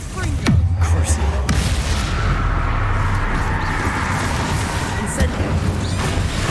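Casting Crucio in Hogwarts Legacy sets off a deep booming burst followed by a sustained rumbling, crackling magical surge, with a voice speaking briefly over it.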